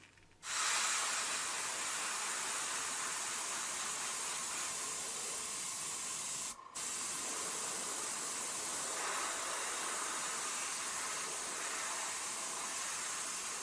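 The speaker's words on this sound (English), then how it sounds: "I'm going to give those a light spray too" A steady, close hiss of spray paint on car wheels runs nearly continuously for over ten seconds, with one brief break partway through.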